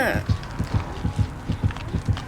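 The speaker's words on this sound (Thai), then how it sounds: "เสียงหัวใจมันอยู่แถวเนี้ย" Killer terror-radius heartbeat from Dead by Daylight Mobile: a steady, deep double-thump pulse repeating about twice a second, close and prominent, with a brief voice at the start.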